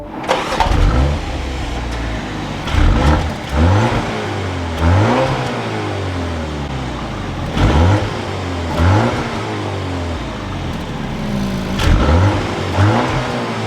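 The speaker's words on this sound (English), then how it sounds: "let's fire this up and take a listen to the all-new X1" A 2024 BMW X1 M35i engine catches and then revs several times, loud and close, with sharp rising and falling sweeps that settle between blips into a steady idle.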